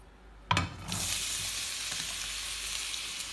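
Two onions fall into hot oil for spiced pilau rice with a sharp burst of sizzle, then settle into a loud, continuous close frying crackle with faint stirring.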